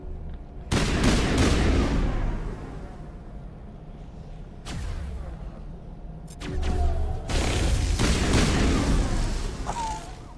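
Powerful gun blasts from the video game Mass Effect, loud booming shots in long rumbling bursts with brief pauses between, close and dominant, with no talk over them.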